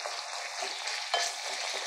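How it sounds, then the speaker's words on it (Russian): Tomato paste fries in a pan with a steady, dense sizzle throughout, and a brief stir or scrape sounds near the middle; no one speaks. "Затем положила я томатную пасту и жарю."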